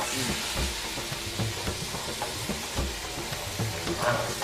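Cumin, dried red chillies and curry leaves fry in hot oil as the tempering for an aloo sagu sambar, giving a steady close crackling sizzle with soft low stirring knocks throughout and no voices.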